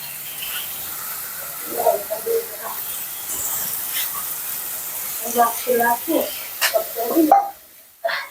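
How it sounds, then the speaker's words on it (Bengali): Onions and spices fry in a wok over a soft background sizzle, with intermittent clattering stir strokes and scrapes growing busier toward the end, then a short pause. "এই যে পেঁয়াজ দিয়ে দিলাম একটু পেঁয়াজটা বেশি দিচ্ছি"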